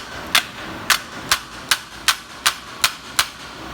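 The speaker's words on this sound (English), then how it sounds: "It's best to tap that with a hammer and knock it back." A hammer taps on the alternator of a 2001 Toyota Camry, eight sharp metallic knocks at a steady, close, even rhythm, with no talking.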